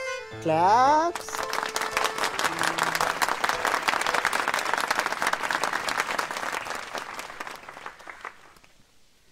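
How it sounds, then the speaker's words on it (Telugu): Audience clapping during a hypnotism scene in a Telugu comedy film, a brief voice at the start giving way to dense, sustained applause that gradually thins out toward the end. "క్లాప్స్."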